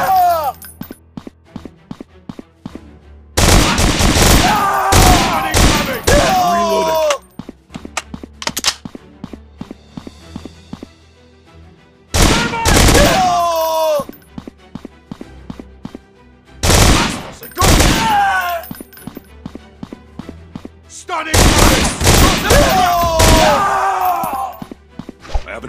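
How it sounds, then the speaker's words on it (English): Bursts of assault rifle fire in a shooting video game, several loud rapid volleys separated by short pauses, with thumps and game sounds in between. "Assault rifle."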